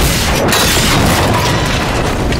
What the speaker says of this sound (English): Oh, he's shooting me.